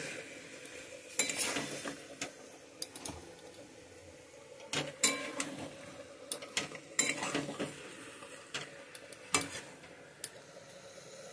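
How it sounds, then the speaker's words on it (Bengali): A spoon scrapes and clatters in a pan as chicken is mixed into a spice paste, knocking against the metal in uneven bursts over a low sizzle; no talking. "চিকেনগুলো দিয়ে দিচ্ছি, ভালোভাবে মাখিয়ে নিচ্ছি চিকেন ও মশলা দুটোই।"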